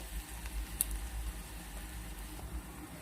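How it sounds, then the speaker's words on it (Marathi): Chopped onion sautéing in a pan for paneer tikka masala, a soft steady sizzle with faint low rumble and a brief clink, no voices. "कांदा टाकून घ्यायचा आणि कांद्याला परतून घ्यायचं कलर चेंज होईपर्यंत याला परतून घ्यायचं"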